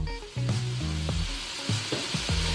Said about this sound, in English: We have our butter here, guys, inside our wok with some minced garlic, and we just added our broccoli